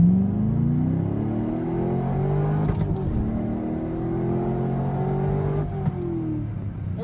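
A C5 Corvette launches hard from a standstill, engine revving up through rising gear sweeps with quick shift breaks, loud and close from inside the car.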